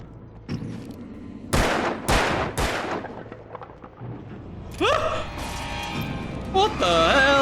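Gunshots in the Alan Wake video game, three loud close blasts in quick succession, followed by rising whooshing and ringing game effects.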